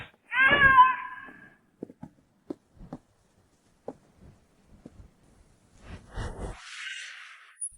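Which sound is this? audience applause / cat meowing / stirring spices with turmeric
cat meowing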